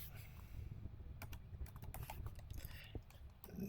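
Computer keyboard keys tapped while code is typed, a close, steady clatter of quick keystrokes with brief pauses throughout.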